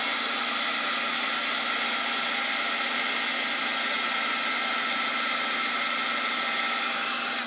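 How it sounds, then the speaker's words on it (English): A heat gun blows in a constant, loud, breathy roar aimed at plastic to melt it, holding steady with no breaks and no talking. "Apply heat to that little spot there and see what it does."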